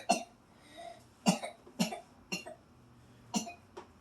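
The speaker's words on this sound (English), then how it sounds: "I coughed and all my saliva went all over my face." Several sharp coughs spaced irregularly, close and fairly loud, with quiet pauses between them and no talking.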